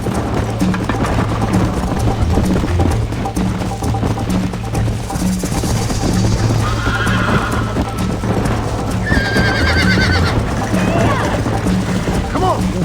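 Horse galloping in the video game Red Dead Redemption, with steady hoofbeats and a couple of neighs or whinnies over a constant game soundscape, mixed under ongoing talk.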